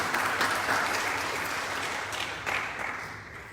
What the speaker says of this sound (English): put your hands together and give them a lovely round of applause for their service